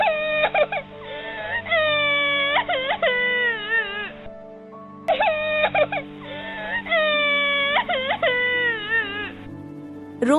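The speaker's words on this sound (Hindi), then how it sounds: "देर रात को जूही का भाई नहीं आने पर वह जोर जोर से रोने लगी।" Cartoon girl crying loudly in a Hindi ghost cartoon, repeated wailing sobs in rising and falling bursts with a short pause midway, close and prominent over a soft music bed.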